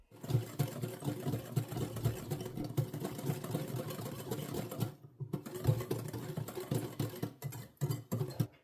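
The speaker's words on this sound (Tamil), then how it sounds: "இது கூடவே 1/2 கப் சுகர் சேர்த்து நல்லா பீட் பண்ணி எடுக்க போறோம்" Melted butter and sugar beaten together in a bowl for a rava coconut cake, a continuous dense whirring mixer drone with a brief pause midway, steady and close.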